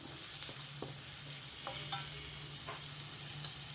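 Onions fry with a pinch of salt in a pan for a chana dal and coconut curry: a quiet, steady sizzle broken by a few sharp spatula scrapes and stirring taps.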